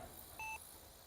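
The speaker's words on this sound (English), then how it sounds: "Timer expired." An R/C flight timer gives a single short electronic beep as it expires, a brief clear tone over quiet background hiss, with no voices.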